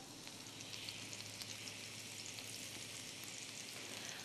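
Vegetarian bacon frying in a pan, giving off a steady, even sizzle that stays close and constant throughout, with no voices over it.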